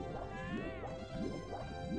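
Splashing as the character jumps into icy water in the Super Mario 64 video game, a few wet sloshing bursts repeating over game music, moderately quiet.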